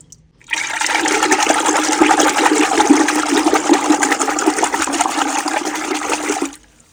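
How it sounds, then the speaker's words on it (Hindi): Water gushes steadily into a vessel of freshly churned lassi (buttermilk) in a village kitchen, a loud, continuous pour lasting several seconds before stopping abruptly. "उसके बाद पाते हैं जी लस्सी में पानी पानी पानी"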